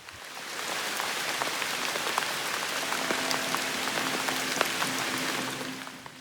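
Heavy monsoon rain pours steadily at night in a Goa rainforest, a dense, even hiss of countless drops striking leaves and ground that holds unbroken for several seconds with no voices.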